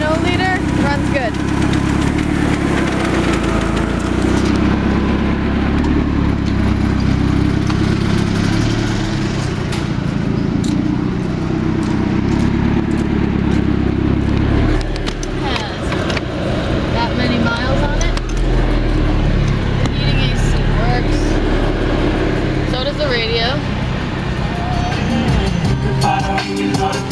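A 1998 Ford Contour with a 2.0-liter four-cylinder engine, running steadily at idle with a constant low drone.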